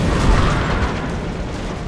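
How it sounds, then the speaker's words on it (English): A rocket launched by a heavy soldier in XCOM explodes, giving a loud, sustained booming rumble that fades slowly over about two seconds with no talk over it. "Firing rocket."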